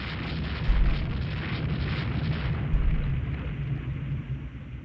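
Naval gunfire in the Rule the Waves 2 warship battle game: a dull, rumbling boom strikes near the start, a second heavy thud follows about two seconds later, and a steady roaring wash of battle noise sits underneath throughout.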